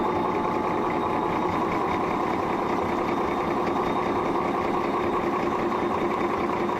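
A century-old vintage marine engine runs steadily and loudly, a continuous mechanical drone with an even, fast rhythmic chug and no voices over it.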